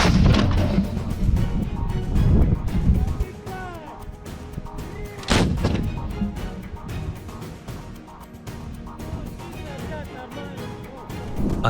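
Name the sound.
Russian D-30 howitzer artillery firing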